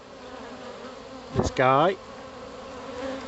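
A steady buzzing drone of a honey bee swarm fills the background, with a man's short remark spoken briefly over it.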